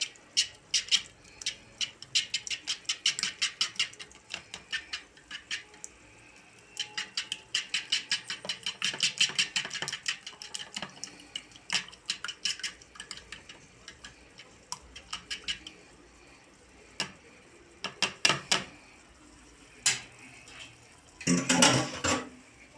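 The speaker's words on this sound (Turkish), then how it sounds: "Onlara da tuzunu koyuyorum. Ve şöyle çırpıyorum." Eggs with salt whisked briskly in a pan for Turkish menemen, a fork or whisk clattering against the sides in fast rhythmic bursts with short pauses, ending in a louder scraping flurry.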